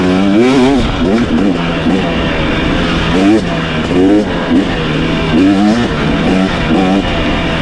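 A 2023 KTM 250XC two-stroke dirt bike revs repeatedly while being ridden through Crow Canyon, engine pitch climbing and falling in quick bursts over constant wind noise, close and loud.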